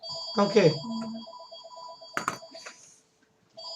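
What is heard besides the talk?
telephone ringing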